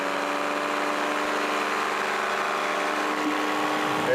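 Paramotor engine running at steady throttle in flight, a loud continuous droning hum with a stable pitch and no breaks.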